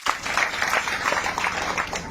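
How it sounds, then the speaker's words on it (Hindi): Loud applause from a seated audience at a spiritual discourse, a dense, even roar of clapping that starts abruptly and holds steady at full strength, with no speech over it. "एक बार जोरदार तालियां।"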